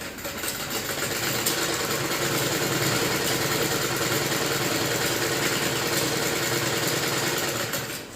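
Sewing machine stitching elastic onto a kachchha, a loud continuous close mechanical whir and rapid needle rattle running steadily for several seconds before easing off at the end.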